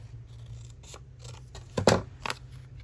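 Scissors snipping paper for a journal page, with a few close, crisp cuts clustered near the end over a quiet background hum and no talk.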